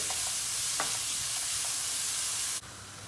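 A large amount of onion is sautéed in a pan as the base for a tomato and pepper bulgur pilaf, with a dense close sizzle and a few scraping stirs, cutting off abruptly near the end, with no one talking.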